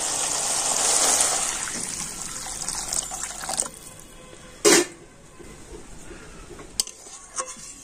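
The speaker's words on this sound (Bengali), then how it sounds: "আর এবার আমি দিয়ে দেবো জল।" Water poured into a pan of fried, oil-releasing spices for a Bengali eggless omelette curry, a loud splashing pour at first that fades, followed by a sharp clatter and a few small kitchen knocks.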